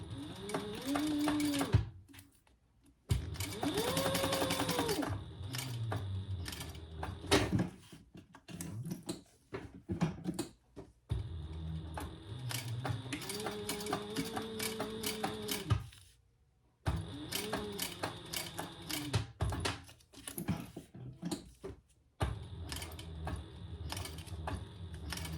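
A sewing machine stitching three sides of a purple Theratex fabric piece, running in several bursts of rapid whirring separated by pauses, with clicks and handling noises between runs.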